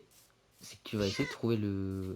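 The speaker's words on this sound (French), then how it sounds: "Ah, c'est un chat." A Minecraft cat meows in the game, a few tonal, whiny meows rising over a quiet background, close and clear, while a player speaks briefly in French at the start.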